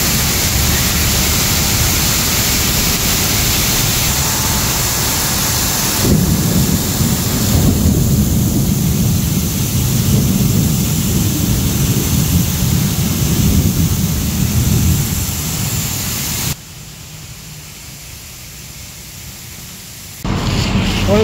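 Heavy rain pours steadily in Kuala Lumpur, a dense, loud roar with deep thunder rumbling through it. The roar drops off sharply near the end, then returns.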